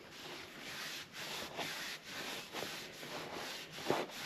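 Steady back-and-forth scuffing of a Scotch-Brite pad on the seal surface of a 1978 Ford F150 steering box, repeated rubbing strokes in an even rhythm, close and fairly quiet with no talk.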